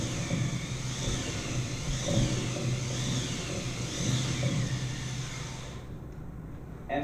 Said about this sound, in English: And in order to create the wind, what I did is I built this wind machine.